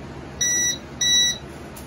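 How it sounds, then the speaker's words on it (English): Creality LD-002R resin 3D printer gives two short electronic beeps about half a second apart as its build plate reaches the bottom, clear and close over a faint background hiss. "it beeps when it hits the bottom"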